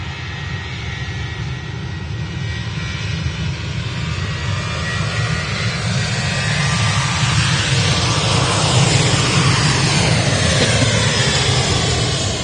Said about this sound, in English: I can hear an A321 Neo touching down now